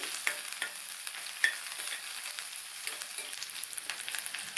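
Sliced onion, garlic, green chilies and dried red chilies sautéing in hot oil, a steady faint sizzle with light scraping stirs of a spatula against the pan, no voices.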